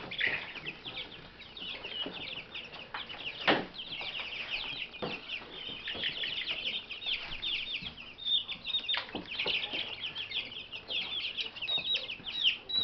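A three-week-old black copper Marans chick clucks and peeps repeatedly in a close, busy stream of high chirps, with occasional soft rustles and wing flutters and no talk.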